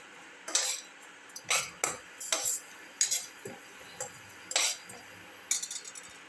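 A utensil scrapes and clinks against a pan as shallots, garlic and ginger are sautéed for a pumpkin tomato rice soup, with sharp intermittent strokes over a quiet background.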